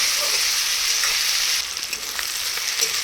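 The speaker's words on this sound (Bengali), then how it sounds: "তারপরে পেঁয়াজ কুচি আর কাঁচা লঙ্কা দিয়ে দেবো।" Chopped onion and green chilli fry in a pan over a medium gas flame for a chicken dish. A steady, close sizzle with bright hiss runs throughout and eases slightly partway through.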